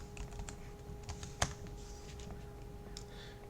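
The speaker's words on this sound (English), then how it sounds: "and then I can enter my password." Password being typed on a computer keyboard while logging into Linux Mint, a quiet, irregular run of light key clicks with one sharper tap midway, alone.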